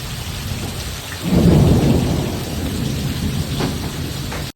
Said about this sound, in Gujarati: તો જો ધમાકેદાર વીજળી થાય છે ને ધમાકેદાર વરસાદ ગાજે છે ને જો વરસાદી એકદમ ચાલુ છે